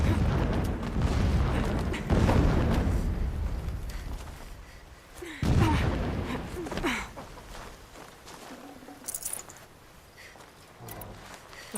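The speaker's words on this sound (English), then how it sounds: "Explosions in the distance." Distant explosions boom in the game Horizon Zero Dawn, several deep rumbling blasts arriving in waves and fading out, followed by quieter scattered in-game sounds.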